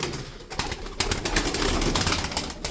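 Aslan tumbler pigeons, including blue ones with mirror tails, cooing softly amid a busy, rustling background of many birds nearby, with no talking.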